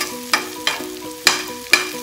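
White sugar with fish sauce cooking in a pan until it browns, with a low steady sizzle broken by four sharp utensil taps and scrapes at a loose, even rhythm, close by.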